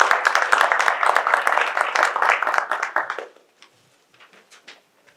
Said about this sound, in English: Please give a round of applause for these electrification leaders.